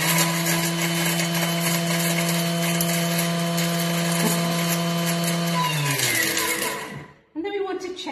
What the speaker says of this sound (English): all I need to do is to whiz that up for probably about 6 seconds will be fine at speed 10